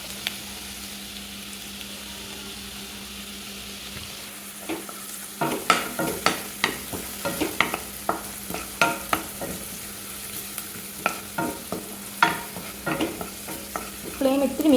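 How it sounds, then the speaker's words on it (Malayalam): Onion and garlic sautéing in a pan on the stove for broccoli mushroom rice, with a quiet start and then repeated close stirring scrapes and light sizzling that continue steadily. "സവാളയും വെളുത്തുള്ളിയും ആഡ് ചെയ്തതിന് ശേഷം ഒരു 1 to 2 മിനിറ്റ്സ് നമ്മൾ നല്ലപോലെ സോട്ട് ചെയ്യുക."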